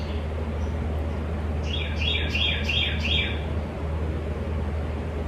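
Loud birds chirp outdoors in a quick run of repeated high tweets lasting a couple of seconds, set over a steady low hum with no talking.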